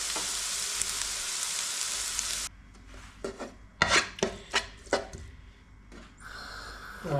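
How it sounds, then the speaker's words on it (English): Curry spices frying in a pan, a steady loud sizzle that cuts off, followed by scraping stirring strokes and scattered knocks against the pan. "Just stir those spices in."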